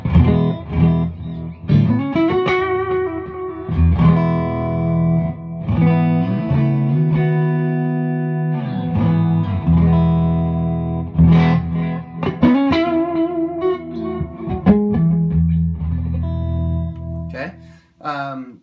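Electric guitar runs through a Strymon Timeline delay and BigSky reverb on a Disaster Area DMC-4 setup, sustained chords and single notes ringing out loud with echo repeats and a long reverb tail, played alone without talk.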